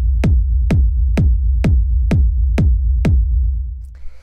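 Seven evenly spaced techno kick drum hits with deep, booming low end and sharp attacks, played without drum bus processing, loud and alone with no talk.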